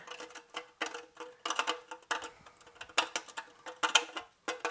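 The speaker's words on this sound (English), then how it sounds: "all I got left is come in and deburr these two holes" A hand deburring tool scrapes the edges of drilled holes in a metal chassis for a tube phono preamp, giving repeated short rasping bursts in an uneven rhythm, close and fairly quiet.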